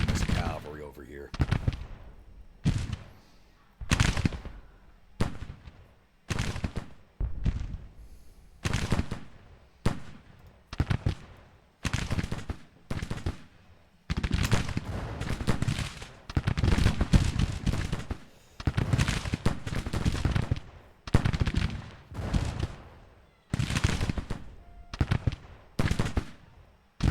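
Rifle volleys and artillery fire in the Grand Tactician: The Civil War strategy game: many distinct booming shots at irregular intervals, each a sharp crack with a decaying tail, some louder and nearer, others distant, with occasional talk.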